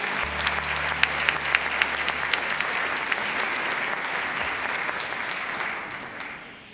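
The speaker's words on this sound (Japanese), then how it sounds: "どうぞ皆様大きな拍手でお迎えください。" An audience at the 2022 Miss SAKE Japan final selection applauds the Grand Prix winner, steady sustained clapping with a few sharper claps, fading out at the end as a low hum drops away early.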